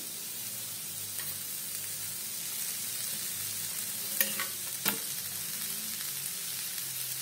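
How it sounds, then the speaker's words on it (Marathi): Finely chopped mustard leaves sizzle and fry with spices in a pan, a soft continuous hiss with a couple of sharp scraping stirs near the end. "सर्व मसाले चांगले मिक्स करून घेतल्यानंतर त्यात आता आपण टाकणार आहोत बारीक चिरलेली मोहरीची पाने."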